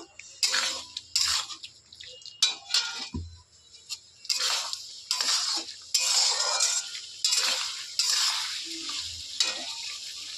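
Bhetki fish head being stir-fried in a pan with coriander powder, turmeric and Kashmiri chilli powder: loud, close sizzling in repeated bursts with scraping spatula strokes and occasional clinks against the pan.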